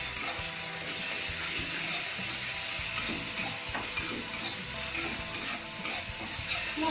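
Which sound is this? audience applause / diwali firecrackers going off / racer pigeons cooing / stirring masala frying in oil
stirring masala frying in oil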